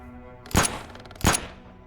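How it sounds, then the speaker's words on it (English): Two sharp gunshot-like bangs from the zombie survival game Terminus Zombie Survivors, spaced about three quarters of a second apart, each with a brief tail, heard without any talk. "So we've heard gunshots,"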